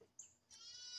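Goats bleating in a farm pen on a family homestead beside a pig pen, a short nasal call followed by a longer, louder wavering bleat, fairly close and heard alone.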